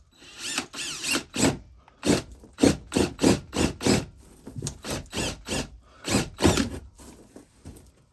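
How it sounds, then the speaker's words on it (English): A 3/4 inch spade bit drills a hole in the underbelly of a brand-new trailer. It comes through as a close series of rough, grinding bursts in a choppy rhythm, with no talk. "So I'm going to drill a hole and poke it out."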